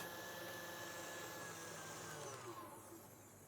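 An electric stand mixer motor whirs steadily while whisking carrot cake batter, a continuous close hum that stays even and then eases slightly toward the end.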